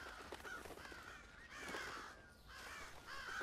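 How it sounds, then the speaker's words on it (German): Alarmed crows cawing in the stealth game Thief, a flurry of harsh, repeated caws bursting out in quick overlapping calls, fairly close and loud against a faint ambient background. "Jetzt habe ich die scheiß Vögel alarmiert"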